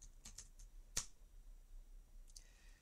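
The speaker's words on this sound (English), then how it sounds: "I'm going to bring down the console and just type quit game." A few quiet, scattered keystrokes clack on a computer keyboard, with one sharper click standing out in an otherwise hushed room.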